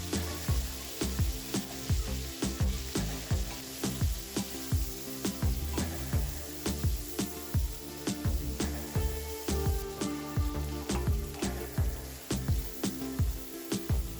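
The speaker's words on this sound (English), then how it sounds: "Next, add 2 medium-sized diced onions and stir for a few seconds." Two diced medium onions fry in a pan for pepper chicken, giving a soft sizzle under a steady rhythmic beat of sharp percussive taps. The taps repeat evenly throughout and there is no talking.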